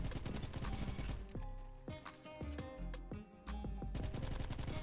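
UMP-45 submachine gun bursts firing rapidly in the online shooter Bad Business, played as several fast automatic volleys with short gaps between them, loud and close, with no talking.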